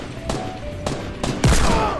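Gunfire in the video game Fortnite: several sharp shots in an irregular burst, loud and close, over a constant bed of game sound.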